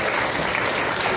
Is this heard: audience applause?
yes